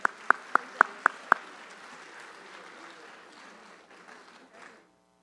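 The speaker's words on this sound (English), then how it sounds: "Let's give him a round of applause" At a high school senior awards ceremony, six sharp, evenly spaced claps ring out close by, then lighter scattered applause from the audience follows and fades to silence.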